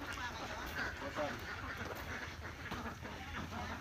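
Ducks quack faintly at a distance on a farm amid a steady outdoor background, with low voices murmuring now and then.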